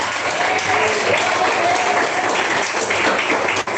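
Loud, sustained applause from a church congregation during a pastor's Bible study; dense, steady clapping fills the whole stretch with a faint murmur underneath, ending in one sharp knock.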